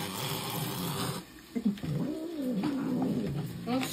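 A domestic cat yowls while eating, drawn-out wavering moans and growls that rise and fall up close, broken by a short pause before continuing.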